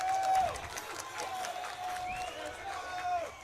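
A crowd at a grappling match cheers and claps as a broad, distant roar, with whistle-like tones and commentators talking over it.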